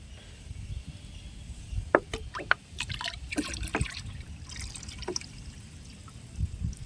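A watery rice mixture is poured into a container of water, giving close trickling, dribbling and dripping splashes in uneven bursts over a low background hum, with no talking.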